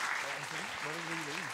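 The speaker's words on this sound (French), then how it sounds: "Tu peux te lever et te faire applaudir, je t'en supplie." Audience applauding at a live event, steady clapping throughout with a voice talking over it.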